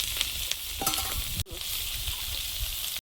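Ridge gourd fries with turmeric and coriander powder in a pan, giving a close, continuous sizzle broken by a few sharp stirring clatters and a utensil knock near the end, with no talk.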